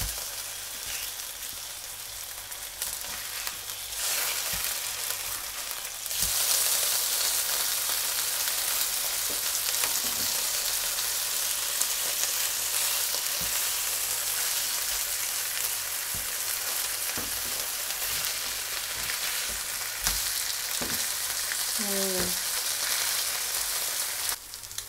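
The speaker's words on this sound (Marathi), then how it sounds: "आता आपण पुन्हा एकदा परतून घेणार आहोत।" Tilapia coated in green masala frying in a pan, a steady loud sizzle that holds for the whole stretch with small crackles and stirring scrapes, no voices.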